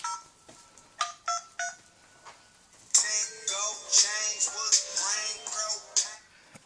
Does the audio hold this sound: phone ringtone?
yes